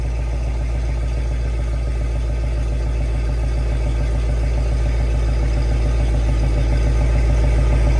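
A 2020+ Shelby GT500 with Kooks longtube headers idles loudly and close by after a cold start, a deep, steady rumble with a rapid, even pulsing throb throughout.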